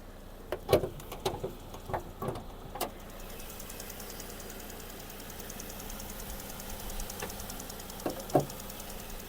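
A Skoda Octavia Tour 1.6 MPI engine idles quietly with a steady low hum. Sharp knocks and clunks sound at the start and again near the end.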